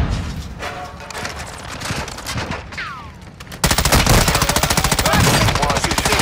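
Rapid automatic gunfire in Call of Duty DMZ, scattered shots and bursts giving way to a loud, sustained rattling stream of fire in the last half, close and dense.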